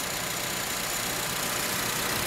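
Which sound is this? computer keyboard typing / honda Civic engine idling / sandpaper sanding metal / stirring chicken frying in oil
honda Civic engine idling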